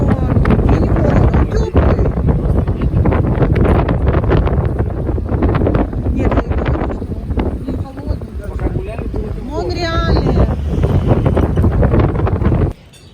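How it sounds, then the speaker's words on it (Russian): Strong warm wind buffets the microphone steadily while riding a bike through Palermo, a loud continuous roar beneath someone talking, cutting off abruptly at the end. "Нет, ветерок дует, но и не холодно, он теплый."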